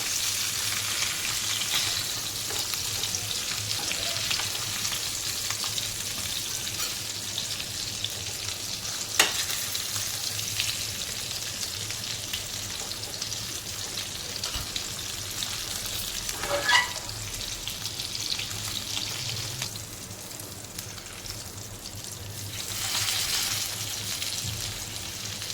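A whole pomfret fried Konkan-style in a pan with a semolina and green masala coating sizzles steadily and loudly throughout, a constant crackling hiss with occasional sharper spits and scrapes.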